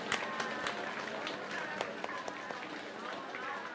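A church congregation claps together during a service, a dense, steady wash of many hands with sharper individual claps standing out, voices mingled underneath.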